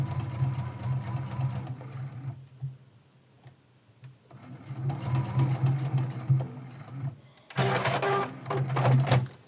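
Sewing machine running a straight stitch on a quilt, with close, steady mechanical whirring in three stretches broken by brief pauses, the last burst the loudest.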